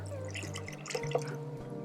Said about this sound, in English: I'm gonna add a bit more water